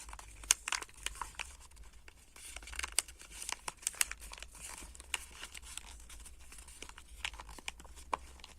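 Sheets of paper being folded and creased into a crown shape in a children's craft session, a steady stream of close crinkling, rustling and sharp creasing sounds with a low hum underneath.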